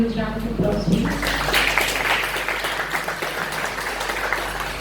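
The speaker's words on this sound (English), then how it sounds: "I guess we can give them a huge round of applause, please." An audience at a college debate competition gives participants a round of applause, dense clapping that swells early then continues steadily and slowly fades, with a voice briefly over the start.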